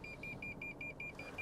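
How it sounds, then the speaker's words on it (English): Front parking sensors on a Toyota Aygo X beeping in a steady series of short, evenly spaced pips as the car nears a wall, over a low idling engine hum. "this is how close you are to the wall when the sensors go beep"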